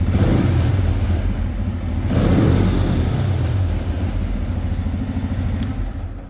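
A 24-horsepower VW engine runs with a low mechanical rumble and clatter, swelling briefly as it revs up then settling back, close and fairly loud.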